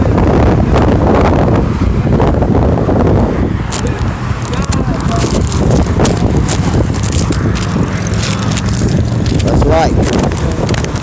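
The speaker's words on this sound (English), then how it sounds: "it's windy as fuck" Heavy wind buffets the microphone in a constant loud roar and rumble, with no pauses throughout.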